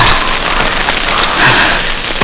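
Heavy rain with wind pours down steadily, a loud, dense hiss of drops on surfaces close by, with no voices.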